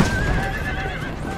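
A horse in the video game Assassin's Creed Brotherhood whinnies loudly with a long, wavering high neigh over a steady bed of hoofbeats and background noise.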